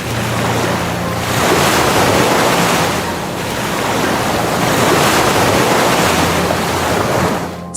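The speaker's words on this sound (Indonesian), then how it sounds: "Tiba-tiba air keluar dari bawah batu besar." Water bursts out from under a big rock in a river setting: a loud, continuous rushing and roaring surge that swells and eases slightly, with no voices over it.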